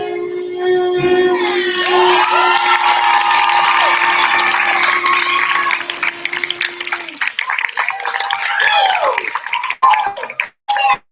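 A crowd at a children's end-of-year recital cheering and clapping loudly, with shouts and whoops over a sustained tone early on. The noise breaks into scattered claps and shouts near the end.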